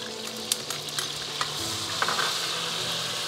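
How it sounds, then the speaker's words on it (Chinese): Water-soaked whole spices hit warm oil in a wok, giving a steady close sizzle with occasional clinks of stirring throughout. "直接倒里边，温油下锅炸一下"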